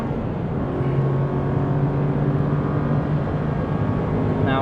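A sports car engine pulls hard under throttle up a 1.2-kilometre back straight during a track day, a loud steady drone with wind and road roar that holds constant throughout, close to the car.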